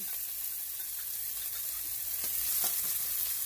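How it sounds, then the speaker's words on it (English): Red peppers and onions sauté in a hot pan on high heat for a shrimp, chicken and veggie stir fry, giving a steady, soft sizzle with a few faint stirring scrapes and no talking. "throw in the red peppers and onions and let them go ahead and start sauteing"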